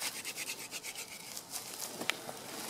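Wood is spun by hand in a hand drill friction fire, making a quiet, rhythmic rasping rub that repeats in quick strokes, close by, with one sharp tick near the end.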